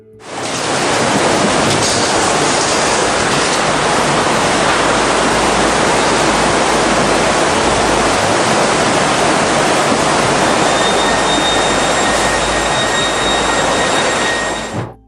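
A tsunami in Thailand, a churning wall of water surging ashore, roars as a loud, unbroken broadband rush that holds steady for about fifteen seconds with no voices.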